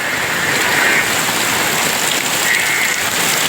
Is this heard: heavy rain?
yes